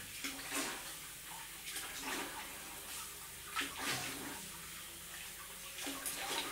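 Cold tap water running and splashing while rinsing, a close, fairly quiet stream with uneven gushes and spatters throughout, no talking.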